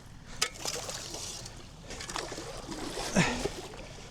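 A Range Rover L322 TD6 pushes through muddy water, with splashing and sloshing over a low engine rumble and a stronger surge of water near the end.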